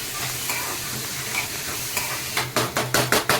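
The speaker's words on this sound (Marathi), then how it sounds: "कांदा ब्राऊन होईपर्यंत हे करून घ्यायचं ब्राउनिश कलर यायला पाहिजे" Onion fries in a pan until browning for Konkani-style fine fenugreek bhaji, a loud close sizzle that ends in several quick rhythmic stirring scrapes against the pan, with no talking.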